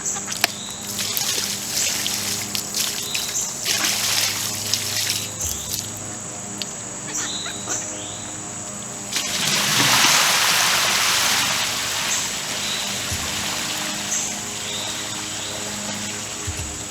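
Rinsed black coal sand and water pour into an aquarium with trickling, splashing water, steady for a while and then swelling into a heavier gush partway through, over a faint high background hum.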